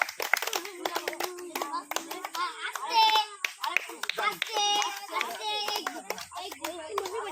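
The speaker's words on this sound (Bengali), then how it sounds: "তোমরা হাততালি মারো" Children clap their hands in quick, uneven bursts during a comedy challenge of picking up a bottle, close and fairly loud, with kids' chatter and shouts mixed throughout.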